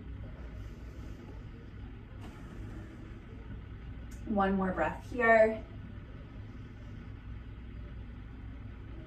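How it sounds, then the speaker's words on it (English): A construction crew's truck idles just outside a house, a low, steady engine rumble running underneath throughout, while someone speaks briefly in the middle. "Construction crew pulled up right outside my front door, so sorry if you're hearing those truck noises."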